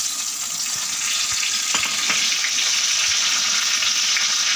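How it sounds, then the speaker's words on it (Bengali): Cumin seeds, dried red chillies and bay leaf sizzle in hot mustard oil with a steady, close, loud hiss that carries on evenly throughout, broken by a few faint crackles and light pops. "জিরে ফোড়নে দিচ্ছি"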